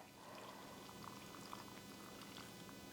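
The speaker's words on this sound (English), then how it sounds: "So I'm now going to fill with this broth" Broth of water, bouillon and hamburger drippings poured into canning jars: a faint, steady liquid pouring trickle with light splashes, close and quiet, with no talking.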